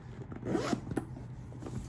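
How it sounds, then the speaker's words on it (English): Zipper on the inside pocket of a petite leather luxury shoulder bag, a quiet close rasping pull with a few quick scratchy bursts, alone without talk. "Has an inside zipper pocket as well, which is in, that zipper is working."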